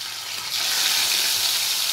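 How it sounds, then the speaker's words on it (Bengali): Pieces of bata fish going into hot oil in a pan, setting off a loud, steady sizzle that swells after the first half second and keeps crackling with no talk. "মাছ যে তলায় লেগে যায় সেটা লাগবে না। তো এবার আমি মাছগুলো আস্তে আস্তে দিয়ে দিচ্ছি।"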